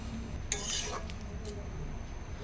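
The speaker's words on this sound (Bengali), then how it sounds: "আলু ও মশলা একসঙ্গে ভালোভাবে কষিয়ে নিতে হবে যতক্ষণ না মশলার জলটা শুকিয়ে আসছে" Boiled potatoes stirred with spices in a pan, a few scraping and clinking utensil strokes over a low, steady background, fairly quiet and close.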